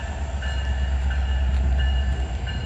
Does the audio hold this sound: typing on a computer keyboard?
no